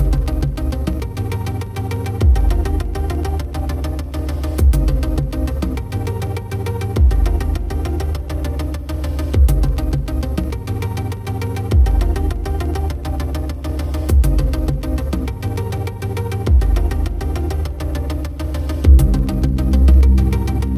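A Can-Am Maverick Sport Max side-by-side engine drones steadily while riding back into St. Helen, Michigan, a loud continuous low rumble with slight surges in throttle and no talk.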